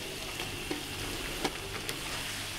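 Onions sizzle steadily in a hot pan, a constant crackling hiss with a few soft clicks, fairly quiet and heard alone.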